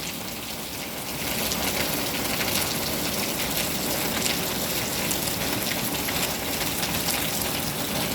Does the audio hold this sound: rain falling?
yes